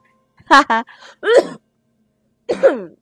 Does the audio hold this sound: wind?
no